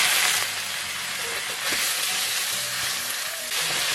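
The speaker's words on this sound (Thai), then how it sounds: "ทีนี้ใส่ตั้งช่ายครับ เราลงไปผัดรวมเลยนะครับ ร็จแล้วใส่กุ้ยช่ายครับ" Garlic and garlic chives stir-fried in a hot pan, a steady broadband sizzle running the whole time with a few faint scrapes of a utensil, close and moderately loud, no talking.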